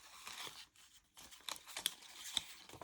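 Scissors snip through paper journal pages for a no-sew booklet, a few quiet, sharp crisp cuts spaced irregularly at close range, with soft paper rustling between them.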